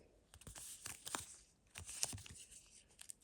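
Paper surprise packet being torn open close by, giving faint, crisp ripping and crinkling bursts in two main flurries with short quiet gaps between.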